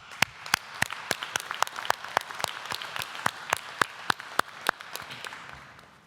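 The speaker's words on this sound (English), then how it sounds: "Let's give them a well-deserved round of applause as well." Scattered applause at a university graduation ceremony in Greenwich, with sharp, distinct individual claps ringing out in an uneven rhythm rather than a dense wash, fairly close and moderately loud.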